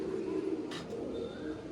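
Pigeons cooing softly in a low, steady murmur after being released from the hand, with a brief higher flutter partway through and continuous background noise.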